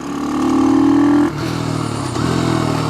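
Ohvale GP-0 190 minimoto motorcycle being ridden, its engine revving high and close, then dropping in pitch as it backs off and picking up again toward the end.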